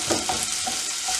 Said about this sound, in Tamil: பச்சை மிளகாய் அதை மாதிரி ஒரு கொஞ்சம் வெங்காயம் போட்டு அதையும் நாங்கள் வதங்கும் வரைக்கும் விடுவோம்